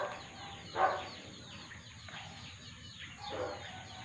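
Faint clucking of chickens in a few soft bursts against a quiet outdoor background.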